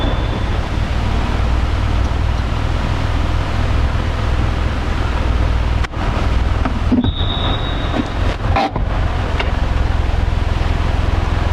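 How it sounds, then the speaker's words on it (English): An Isuzu NPR truck rolls forward a few feet from a stop, a steady loud low engine drone and broadband rumble throughout, with a brief higher tone and a few knocks near the end. "And then we're going to pull the truck forward about 5 feet."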